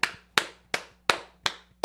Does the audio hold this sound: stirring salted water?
no